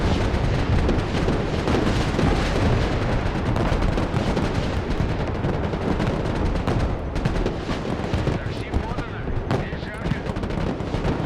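Short-range air defense guns firing in the war game Broken Arrow, a dense, continuous roar of rapid shots and explosions at close range with no letup across the whole stretch.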